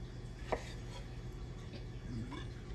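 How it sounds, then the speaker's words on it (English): A kitchen knife cuts a yellow vegetable into quarters on a board while a pan heats nearby; a few faint, sparse chopping taps sound against a quiet room background. "Cut it in fours here as my pan is heating up over here."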